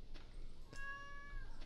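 A cat meows in the farming video game Stardew Valley, one drawn-out, fairly clear meow rising over quiet background ambience, with a soft rustle before it.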